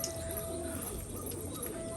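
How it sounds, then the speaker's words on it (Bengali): A pigeon coos softly in a steady, low, murmuring run, heard faintly against a constant background hum. "আর এইখানে আছে এই পায়রাটা"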